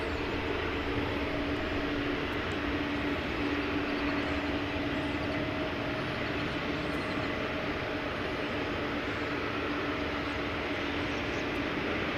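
An American Airlines jet departs DFW, its engines a steady, broad roar holding at constant strength throughout, with a faint tonal whine running underneath and no voices.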